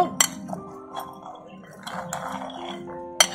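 Chickpeas for spiced chana with chopped tomato being mixed with a spoon in a bowl, a few sharp clinks and a soft scraping, with a voice talking over them.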